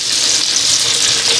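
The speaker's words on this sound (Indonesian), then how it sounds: "setelah ini saya baru goreng iwak pitiknya ya, walaupun cuman goreng 2 paha ayam" Two chicken thighs fry in hot oil, a loud dense steady sizzle close at hand with no pauses.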